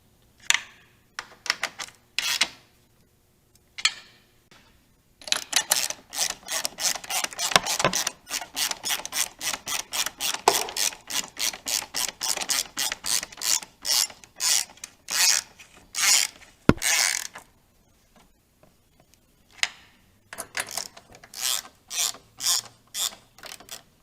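A ratchet on a deep well 9/16 socket tightens the inner fairing bolts of a 2014-or-newer bagger motorcycle, clicking in rapid bursts of strokes with short pauses between, close and crisp.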